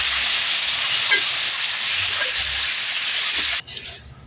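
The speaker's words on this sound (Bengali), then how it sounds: "সরষের তেলটা গরম হয়ে গেছে, এবার রোদে রাখা আমটা কিন্তু দিয়ে দিচ্ছি।" Sun-dried raw mango hits hot mustard oil in a wok and sets off a loud, steady frying hiss. It holds evenly for a few seconds, then drops off sharply near the end.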